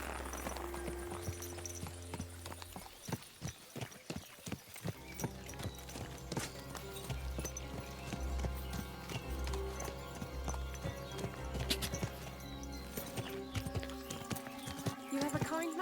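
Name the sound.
donkey hooves clip-clopping, from the video game Kingdom Come Deliverance 2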